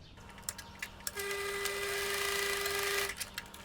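A sewing machine stitching a folded sleeve band runs in one sustained two-second burst, humming steadily after a few short taps, then stops.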